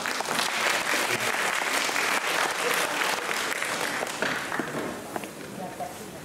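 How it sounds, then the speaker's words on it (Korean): An audience at a church pastors' lecture gives a warm, continuous round of applause to welcome a pastor and professor, the clapping dense and even before tapering off near the end. "이 시간 우리 강인환 목사님 교수님 모실 때 흑자 박수 부탁드리겠습니다."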